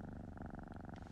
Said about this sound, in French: Reste le ronronnement.